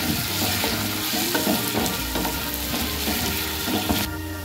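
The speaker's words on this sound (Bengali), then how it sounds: "নুন দিয়ে আবার আমরা ভালো করে এটাকে কষিয়ে নেব" Browned fried onions sauté with salt for chicken fry in a hot pan. A loud, continuous sizzle is broken by repeated scraping and knocking strokes of a spoon against the metal.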